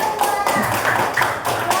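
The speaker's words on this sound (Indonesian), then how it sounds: "Tepuk tangan untuk kita semua." Close, brisk hand claps from a small group after group presentations, a short burst of scattered applause with a faint tone ringing under it.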